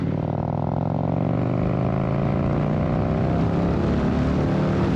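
An Indian Sport Scout Limited motorcycle with an aftermarket SNS exhaust accelerates hard toward 180 km/h, a loud, continuous engine drone rising steadily in pitch, heard up close with no speech.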